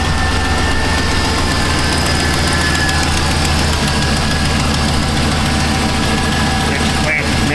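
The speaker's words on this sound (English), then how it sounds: "So let's go ahead and fire this thing up and see what stuff looks like as it warms up." Chevy 2500HD truck engine with a running problem idling steadily, a loud, continuous low rumble with a rough, knocking pulse throughout and no talk.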